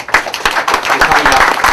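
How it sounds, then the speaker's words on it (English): A crowd applauds loudly and steadily, with dense overlapping claps throughout. "give yourselves a big round of applause."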